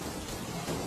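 Steady cartoon rain falls in a continuous hiss with low rumbling beneath, evenly loud across the short stretch and with no voices over it.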